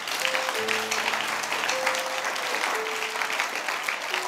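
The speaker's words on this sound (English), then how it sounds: "Somebody clap for Jesus Christ." A church congregation claps during a sermon, a steady dense round of applause with a few faint sustained tones underneath.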